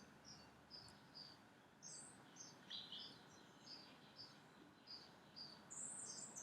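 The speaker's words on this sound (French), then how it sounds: "Là où je suis, il y a des oiseaux." Several birds chirp and trill in short, scattered bursts against a soft outdoor background hiss, some calls nearer and brighter than others.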